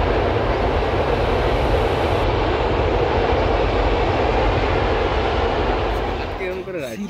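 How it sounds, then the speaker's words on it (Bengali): A train passes beside a flower garden of marigolds, its loud rumbling roar sustained and close for several seconds before easing slightly at the end, with no talk over it. "আবার একটা ট্রেন পাস করছে"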